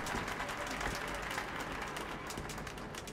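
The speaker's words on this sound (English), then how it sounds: "A round of applause, please." Dense, steady applause from a crowd in the video game Metro: Last Light, continuous clapping throughout with no pauses, moderately loud.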